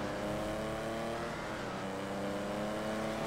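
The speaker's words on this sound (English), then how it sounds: "this car on the acceleration is very fast" A Lancia Stradale in the video game GTA V accelerates, its engine note rising steadily in a continuous, fairly quiet racing-car roar with no speech over it.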